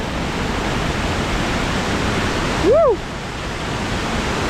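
High-pressure water rushes loudly and continuously at a dam, a broad, unbroken roar heard up close, with a brief high whistle-like sound cutting through midway.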